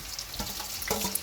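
Chopped onions fry in hot mustard oil in a pan, giving a steady, close, broad sizzling hiss with small crackles throughout and no talking.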